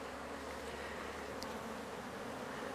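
A dense, steady drone of many honey bees buzzing close by around hives during robbing, continuous and even throughout with no voices.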